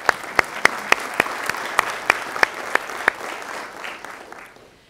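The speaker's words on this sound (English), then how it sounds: "You do clap there." Applause at a university convocation ceremony, with sharp, evenly spaced claps standing out over a softer spread of clapping that fades away by the end, and no talk.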